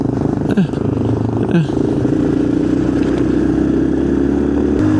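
A Kawasaki KLX 140 dirt bike engine screams at full throttle nearby, with a couple of quick shifts in pitch, a loud continuous buzz throughout.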